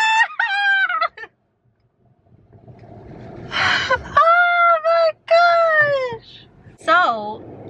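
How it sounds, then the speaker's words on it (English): A chicken or rooster crows near a road, close and loud, with several long, strained, wavering calls in a row and a short rushing noise between them. "you almost hit that bird"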